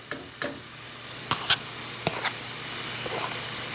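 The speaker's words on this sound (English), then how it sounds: "I'm going to toss that garlic in with it so that can fry with it. It's just starting to sizzle now." Chopped garlic frying in a hot pan on a large stovetop burner while making lasagna from scratch, giving a low steady sizzle with a few sharp stirring scrapes and clinks, close up and fairly quiet, with no talking.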